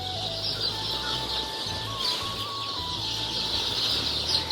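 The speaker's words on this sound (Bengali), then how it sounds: "এগুলো সব হচ্ছে সোনালি মুরগি।" Sonali chickens on a large poultry farm cluck softly and chirp with thin, sustained calls over a constant background hum, moderately distant and without talk.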